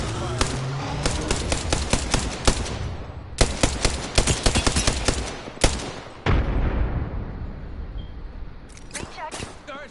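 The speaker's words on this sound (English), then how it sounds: "shots fired and they're hitting me" Gunfire in Apex Legends: several rapid automatic bursts with sharp, loud cracks, separated by short pauses, with a softer trailing shot near the end and a player talking over parts of it.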